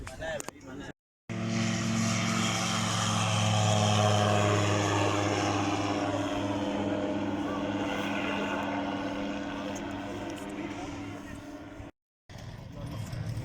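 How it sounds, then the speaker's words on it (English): A microlight trike aircraft approaching to land gives a loud, steady engine drone that swells and then slowly fades, broken by two short cuts to silence. "Coming towards the landing approach, very aggressive landing."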